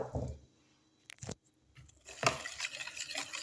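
A utensil mixes cumin and spices into a batter for karantika in a bowl. Soft stirring at first gives way to sharp clinks and scrapes, then a busier run of wet mixing and clattering.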